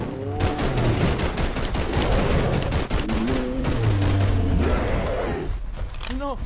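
Rapid gunfire in a video game aimed at a bigfoot creature, loud sustained bursts of shots mixed with mechanical clatter and excited voices throughout.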